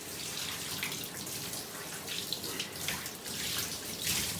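Cool tap water runs steadily into a sink, splashing over a dirty VanEE air exchanger HRV filter being rinsed clean, a continuous close hiss with small surges and no talking.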